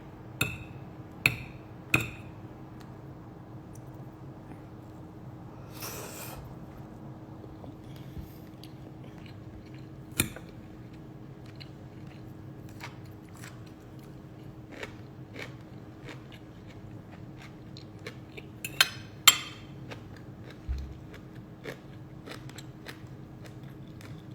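Keto chicken teriyaki is chewed up close in a quiet room, soft crunching bites and mouth sounds spread over the stretch with a few sharper clicks and taps in between, and no talking.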